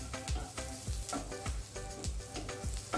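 Chopped onion fries in a hot pan with a continuous close sizzle, broken every half second or so by the scrape and clatter of a spoon stirring.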